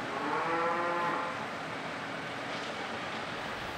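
A dairy cow on a Waikato farm with robotic milking lets out a long, loud moo at the start, followed by a steady, softer farmyard background.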